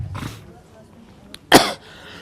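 One sharp, harsh cough bursts out close by after a faint earlier throat sound, in a quiet room.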